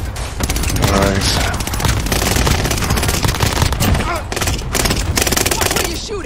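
Rapid automatic gunfire in a video game's Plunder mode, dense loud bursts of shots packed closely together, with players talking over the shooting.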